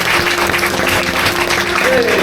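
A crowd at a Temple Street, Hong Kong church ministry meeting applauds continuously, a thick, even clatter of many hands with speech faintly mixed underneath.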